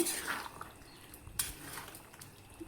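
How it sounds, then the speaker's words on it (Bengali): Mutton and pumpkin curry stirred in a pot, with faint clinks and scrapes of a spoon against the metal and soft wet sloshing, quiet and close. "মাংসটা কুমড়াগুলো দিয়ে নিয়ে এখন একটু ভালো করে নাড়াইয়ে দিব"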